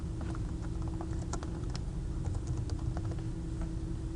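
Steady keyboard typing as a problem map name is entered on a computer, with quick, irregular key clicks up close over a constant low background hum.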